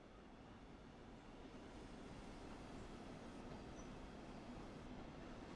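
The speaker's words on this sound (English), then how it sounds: "Such a beast of a train, that." A DB class 218 diesel locomotive in the Train Sim World 6 railway game gives a steady, quiet rolling rumble throughout, with no talking.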